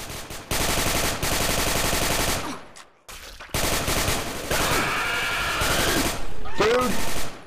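Rifle and automatic weapon fire in the zombie shooter game Left 4 Dead 2 bursts out in long, loud rapid volleys, broken by a brief pause, with game sounds and voices mixed underneath.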